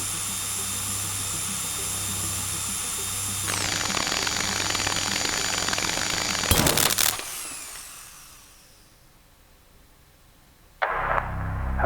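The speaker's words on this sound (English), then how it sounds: "I guess that can stay on and then we just start drilling." Game drilling machinery in the horror game Stories Untold's lab chapter: a loud, steady mechanical whine that shifts pitch partway through, then a burst of noise, a fade to near quiet and a sudden restart.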